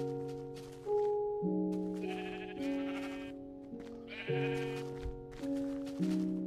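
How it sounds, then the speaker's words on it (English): Sheep bleating in the Minecraft video game, several overlapping wavering bleats following one another in quick succession, fairly loud, with no talking. "Cool, I got myself a nice little hole filled with sheep."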